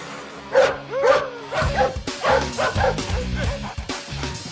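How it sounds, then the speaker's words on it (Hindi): A dog barks and yips from inside a car, giving a quick series of sharp, close barks and whimpers that overlap in an excited, uneven rhythm. "अबे कुत्ते, गाड़ी के अंदर बैठ के भौंक रहा है,"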